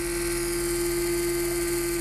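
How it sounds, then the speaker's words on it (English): Motor of a homemade 32-line NBTV mechanical television running near 750 RPM, a loud steady whirring hum with a constant pitch and no talking. "to get the motor speed up to 750 RPM"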